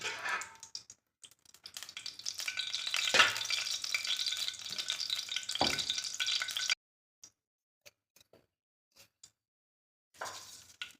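Oil sizzles and crackles loudly in a pan for tomato thokku, with a brief stir, then cuts to near silence with scattered faint clicks before the sizzle returns briefly.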